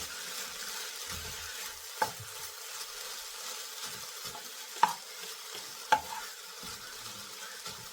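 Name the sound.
stirring drumstick flower thoran in pan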